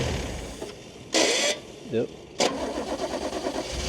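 A Toyota Cressida MX32 at a wrecking yard is cranked over, its starter churning in a continuous rough grind under nearby talk, with several brief loud bursts of noise cutting in.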